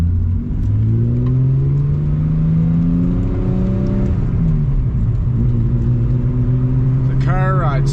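Nissan 240SX driving down a road, its engine revving up through rising tones across gear changes, close and fairly loud, with a voice heard over it near the end.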